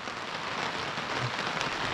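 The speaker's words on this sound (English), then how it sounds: "Hey, it's raining." Steady rain falling outdoors on a farm where an emu is kept, a continuous even patter of drops close by with no voices over it.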